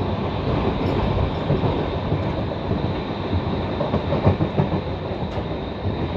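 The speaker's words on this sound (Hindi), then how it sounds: "माला रेलवे स्टेशन पहुंच रही है ट्रेन" Steady, loud rumble of the Lalkuan–Howrah passenger train rolling on the rails near Mala railway station, a continuous dense roar with faint clickety-clack, heard from on board with no talk.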